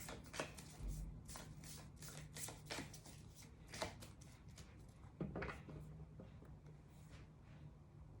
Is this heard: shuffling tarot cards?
yes